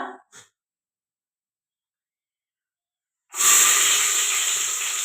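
Tomatoes hit hot oil during the spice tempering for masale bhat: after near silence, a sudden loud sizzling hiss breaks out and keeps crackling steadily.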